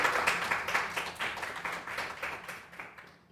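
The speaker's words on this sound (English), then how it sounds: "They applauded for you louder." A church congregation applauds in a steady run of near, dense claps that fade out toward the end, with no voices over it.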